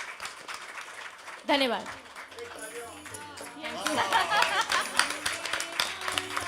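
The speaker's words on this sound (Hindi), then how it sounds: "इसके लिए सभी के लिए तालियां एक बार फिर से हो जानी चाहिए।" Concert audience applause breaks out suddenly and builds into sustained clapping and cheering, moderately loud, with a person speaking over it.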